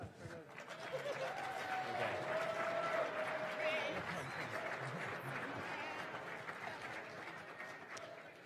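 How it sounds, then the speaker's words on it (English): A large audience at a state arts awards ceremony breaks into sustained, steady applause that fills the room evenly for several seconds, with faint voices mixed in. "a round of applause"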